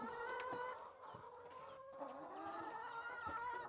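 Several chickens cluck and murmur continuously nearby, a busy layered chatter of hens with no pauses and no talking.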